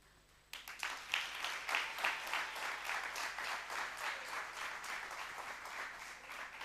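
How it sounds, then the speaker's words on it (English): Audience applause breaks out after a quiet moment at a talk event, a dense, steady clapping from many hands that continues evenly to the end, moderately distant. "you must actually clap hands for that"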